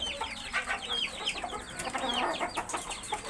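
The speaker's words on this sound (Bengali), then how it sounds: "এই যে মোরগ আছে" Breeder roosters on a poultry farm cluck and call repeatedly in a busy, close chorus, with other fowl audible and no speech.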